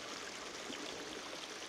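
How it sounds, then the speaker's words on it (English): A small waterfall on a creek produces a continuous, even rush of splashing water, faint and steady throughout the short stretch, with no voices. "This is definitely the waterfall, but not the right one."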